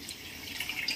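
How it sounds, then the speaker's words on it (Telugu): Water poured from a cup onto raw rice in a pot while making mushroom biryani, a soft, steady splashing and trickling that grows slightly louder toward the end, close by with no talking. "సో ఇలా 1 కప్పు బియ్యానికి 2 కప్పులు నీళ్ళు పోసుకున్నాము"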